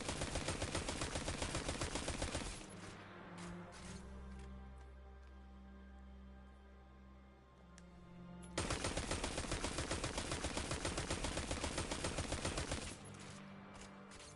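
The Horror Story weapon in Destiny 2 fires in long rapid automatic bursts, a dense loud stream of shots that breaks off for several seconds and then resumes just as intensely.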